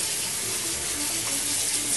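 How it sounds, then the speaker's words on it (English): Tap water runs in a steady, hissing gush in a kitchen sink to rinse cooked spaghetti for a spaghetti pie, close and loud with no break. "you rinse it with cold water"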